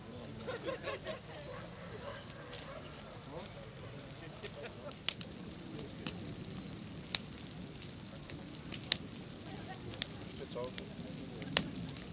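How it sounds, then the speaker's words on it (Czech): Large bonfire, lit on command at an outdoor gathering, crackling and hissing steadily up close, with sharp pops growing more frequent as the flames catch and faint voices in the background. "Kamarádi, zapalte oheň."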